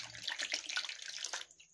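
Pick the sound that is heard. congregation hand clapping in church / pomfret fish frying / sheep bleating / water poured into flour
water poured into flour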